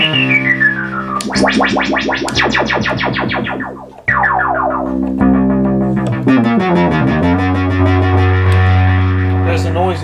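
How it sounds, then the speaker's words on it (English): Minimoog synthesizer, a duophonic unit under restoration, with noise and filter modulation running into a closed-down filter: sweeping, distorted tonal sweeps and buzzy resonant tones, loud and continuous with a brief dip midway and no talk. "There's the noise into the filter."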